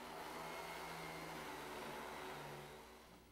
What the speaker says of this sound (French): Essayez l'aspirateur.